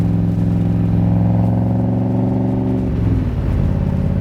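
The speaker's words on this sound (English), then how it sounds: "Going through the gears in this Tremec 5-speed just as easy as can be." A 1965 Shelby Cobra replica, a Superformance MKIII with a Tremec 5-speed, revs loudly and close up while going through the gears, its deep engine note rising and then dipping briefly at each shift.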